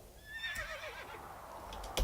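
A horse whinnies in the video game Escape from the Idol Dungeon, a single wavering neigh of moderate loudness, followed by a sharp thump at the end.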